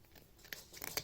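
A cat crunches dry Pedigree dog food indoors, with a few quiet, close, irregular crunches and bites.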